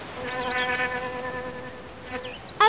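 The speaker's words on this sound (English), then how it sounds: "A bee." A bee buzzes steadily and close by at a picnic, a harmonic drone that holds for a few seconds and wavers slightly in pitch, ending with a sharp noise.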